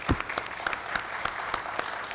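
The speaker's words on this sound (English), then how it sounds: "So I'd like you all to give Diane a round of applause now." City council chamber applause for an honored resident, a steady patter of clapping from a modest crowd with several distinct, sharper claps punctuating the wash.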